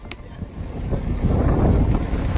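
A stiff breeze roars across the microphone aboard a sailboat leaving Roscoff Harbour in lumpy seas, the gusty rumble building steadily and staying loud throughout, with no talking.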